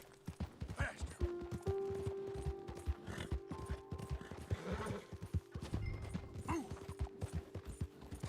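Horse galloping in the Red Dead Redemption 2 video game, rapid rhythmic hoofbeats pounding steadily at close range, with a brief whinny and someone speaking over them.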